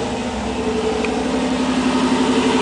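A Range Rover Classic's deep, rumbling engine idle drones steadily nearby through a Flowmaster exhaust, a throaty low exhaust note holding even with no talking.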